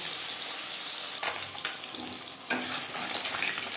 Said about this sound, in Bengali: ম্যারিনেট করে রাখা মাছ পাবদা মাছ একটু ফোটে সাবধানে ভাজতে হবে